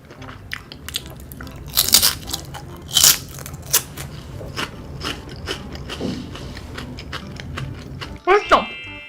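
Fried seaweed chips (gimbugak) crunched between bites of a meal: crisp, close bites and chewing crunches at an irregular pace, with a louder burst near the end.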